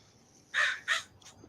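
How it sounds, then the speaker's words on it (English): Crows caw in the background, two loud harsh caws close together followed by a fainter third call, heard alone without talk. "I have the damn crows going in the background"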